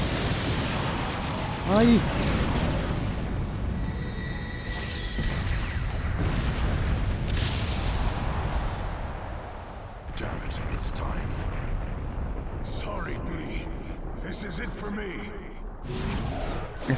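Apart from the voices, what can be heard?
explosions bombarding from inside, video game Naruto Storm 4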